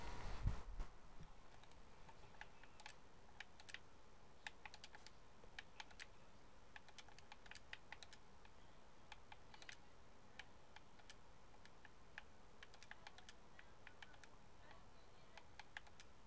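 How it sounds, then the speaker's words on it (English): Steady, rapid computer keyboard typing of a message runs throughout, a fairly quiet, close stream of small clicks with a brief louder thump at the start and no talking, during a Fortnite session. "Typing a message."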